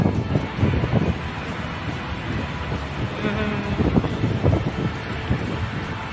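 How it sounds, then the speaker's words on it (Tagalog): Strong cold wind buffeting the microphone on a walking tour in Doha, Qatar, a steady roaring rumble with gusty surges throughout, no talk in the clip. "Pero grabe yung hangin, yung lamig naman."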